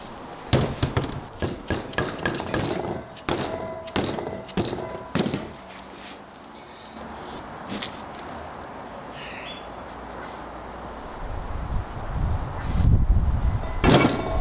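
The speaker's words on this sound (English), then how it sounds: "you gotta take a rubber mallet and just kind of knock it out" A rubber mallet knocks the piston housing out of a Porsche 944 brake caliper in a workshop, with a rapid series of sharp, loud strikes, then a stretch of scraping and handling noise and a few more knocks.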